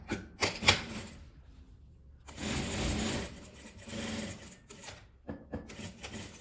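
A sewing machine stitches a zipper onto plastic for a small coin-purse keychain, with short bursts of rapid stitching broken by pauses, one longer steady run in the middle, close and fairly quiet with no talking.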